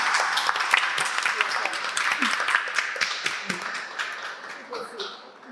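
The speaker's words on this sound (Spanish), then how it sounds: "Yo creo que merecen un aplauso en este momento." Audience applause at an exhibition talk on the female body and public space, steady close clapping that carries on for several seconds and tapers slightly toward the end.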